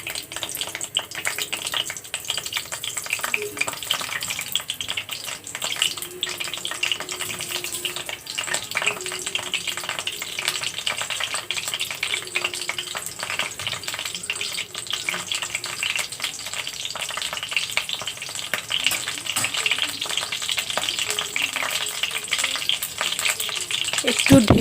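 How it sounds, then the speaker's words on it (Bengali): Tomatoes fry in oil in a pan with a continuous dense sizzle and crackle that holds at an even level throughout, with no talking. "একটু ঢেকে দিব যাতে তাড়াতাড়ি টমেটোটা তেলে ভাজানো হয়ে যায় এবং সিদ্ধ হয়ে আসবে।"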